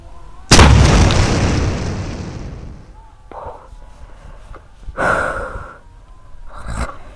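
A single sharp, loud blast from a homemade spirit-fuelled firecracker cannon, its boom decaying over a couple of seconds, followed by gasps and excited voices.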